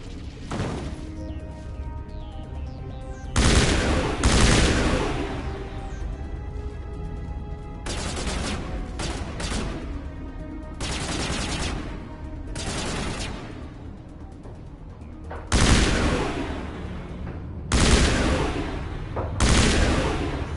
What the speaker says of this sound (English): This assault rifle is awesome.